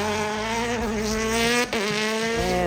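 The electric Ford Supervan race car's whining motor sings loud and close in a steady rising pitch, with a brief dip partway through, at the Goodwood Festival of Speed 2024. No voices are heard.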